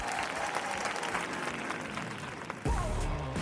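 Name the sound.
applause at podcast start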